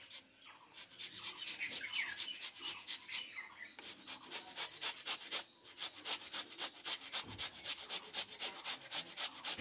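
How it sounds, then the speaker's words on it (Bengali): Raw potato rubbed back and forth on a small fine grater, a fast regular rasping rhythm of scraping strokes, close and loud, with a brief pause midway. "এই গ্রেটারটাই আমি আলুটা গ্রেট করে নেব"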